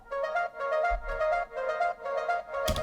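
A plucky Serum harp preset sounds a short series of about five even, bright notes, close and clear, with a low thump entering midway and a sharp hit at the end.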